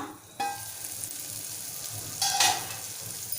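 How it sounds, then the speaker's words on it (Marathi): Bitter gourd slices stir-frying in a pan for a Malvani-style bhaji, with steady close sizzling and two louder bursts of scraping and stirring, no voices. "एकदा परतवून घेऊया"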